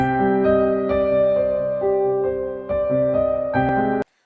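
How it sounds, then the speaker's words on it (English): A simple, calm piano melody of slow single notes, each ringing softly into the next, with a slightly eerie mood, ending abruptly. "For our music we wanted a simplistic melody involving the use of a piano"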